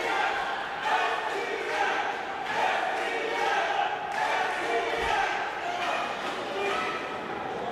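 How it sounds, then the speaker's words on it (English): A wrestling crowd chants at the Sladington Expo Center during a PPW Conquest 2024 tag team championship match, a steady rhythmic roar of many voices pulsing in waves throughout, mixed with a commentator's voice. "The chants resonate throughout the Sladington Expo Center here."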